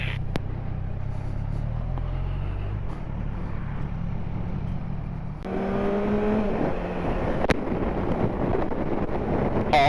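A superbike motorcycle riding on the road, its engine droning steadily beneath heavy wind rush over the microphone, with the engine note rising in pitch partway through.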